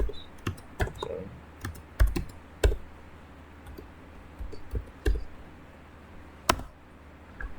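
Computer keyboard typing during a capture-the-flag penetration testing session, irregular bursts of sharp clicks and keystrokes with pauses between them, close and fairly quiet, no talking.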